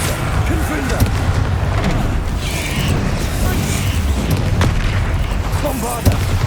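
The Confringo explosive spell is cast in Hogwarts Legacy amid a loud, constant wash of booming combat noise, with rumbling blasts and a sharp hit near the start and end. A voice speaks over the din.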